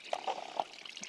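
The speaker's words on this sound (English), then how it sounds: "that's all that nasty water" Dirty water trickling and gurgling out of a clogged bathtub drain, a short, quiet run of wet splashes and drips close by with no talking.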